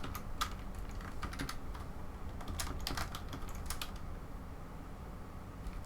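Close computer keyboard typing while code is entered, light irregular clusters of keystrokes over a steady low background hum, with a lull near the end and no talking.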